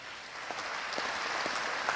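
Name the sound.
audience applause for the congress organisers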